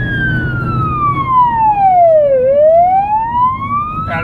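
Police car siren sweeping in a clear wail, pitch gliding down then rising again, loud and close over steady road noise from the moving vehicle in city traffic.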